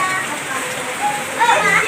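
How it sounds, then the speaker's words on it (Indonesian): Heavy rain falls steadily on a surface during a school welcome for primary pupils, a constant hiss with children's voices and adult talk over it. "Iya, ini hujan-hujan ya."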